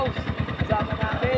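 A motorcycle engine idles close by with a steady, rapid pulsing throb during a rest stop on a long ride, its engine running hot, loud and even throughout.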